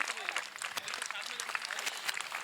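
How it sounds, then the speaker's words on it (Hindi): Steady crowd applause from students at a coaching institute's selection celebration, moderately loud, with dense overlapping claps throughout and voices faintly mixed in. "तो जो तालियों की आवाज है वही बताएगी कि आपका कितना प्यार हमारे प्रति है"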